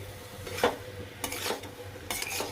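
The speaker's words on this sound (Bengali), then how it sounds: "নুনটা কিন্তু খুব ভালো করে মিশিয়ে দিলাম আমি পুরো কড়াটাতে" A spoon scrapes and stirs pumpkin curry with salt in a wok, giving a few distinct scraping strokes close by over a low background hum, with no talking.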